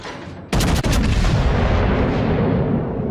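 A battleship main-gun salvo in the naval game World of Warships: a sudden, massive boom cracks in after a half-second of low rumble, followed by a second sharp report and a long, loud roaring decay.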